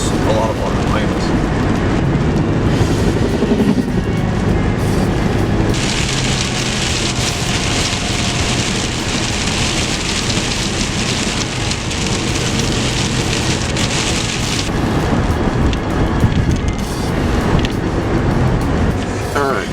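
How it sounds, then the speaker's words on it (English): Heavy rain pounding down during a storm while storm chasing, a dense, loud, continuous roar of downpour with steady intensity and a brighter hiss in the middle stretch. "that's a lot of rain"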